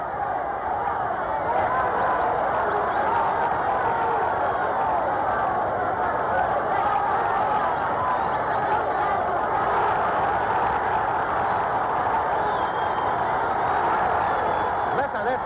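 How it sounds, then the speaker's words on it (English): Excited boxing fight crowd in South Africa roaring in a continuous, dense wall of cheering and shouting, steady and loud throughout with no break. "Listen to this crowd. They are really stirred up."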